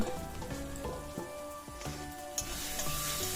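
Pumpkin greens being stirred in a hot cooking pan, a steady wet sizzle with soft scraping and clinking of the spatula against the pan, close and continuous.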